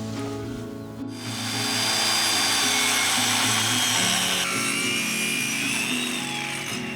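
A hand saw cuts diagonally through a wooden block to make wedges for tightening a cottage timber frame joint, a steady, close, loud rasp of strokes running almost continuously with no talking.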